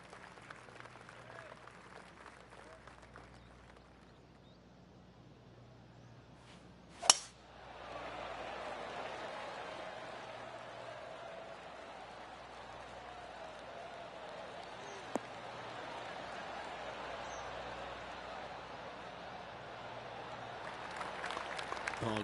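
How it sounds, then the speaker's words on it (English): Polite golf clap applause from a tournament gallery in the PGA Tour 2K23 video game, a steady, soft patter of many hands that runs on for several seconds, with a sharp click near the start. "Oh, golf clap."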